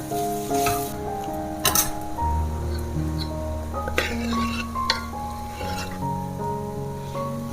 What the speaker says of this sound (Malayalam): ഈ പരുവത്തിൽ നമുക്ക് ബീഫ് ഇതിനകത്തോട്ട് തട്ടിക്കൊടുക്കാം